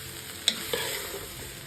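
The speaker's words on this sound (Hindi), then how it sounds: "थोड़ी सी कैबेज ऐड करूँगी और इसको हल्का सा सारे मटेरियल को सौते करेंगे बस" Cabbage and other vegetables sauté in a pan with a soft, steady sizzle, broken by two quick utensil clinks close to the microphone during a short stretch with no talking.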